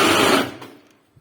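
An electric blender whirs loudly as it purées fish marinade ingredients with lemon juice and vinegar, then spins down and stops within about half a second, leaving a faint clunk afterward.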